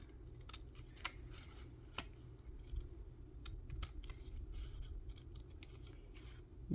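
Scissors snip through fabric for a loaded doily pocket, a handful of sharp, close cuts at irregular intervals over a steady low background hum.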